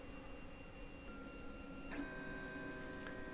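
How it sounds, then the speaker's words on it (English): A LulzBot TAZ6 3D printer pulls filament back from its nozzle, giving steady whining motor tones and a low mechanical hum, with a brief stepper shift near the middle; quiet and close, with no talking. "It's doing a little retraction to hopefully remove any ooze that might appear on the nozzle."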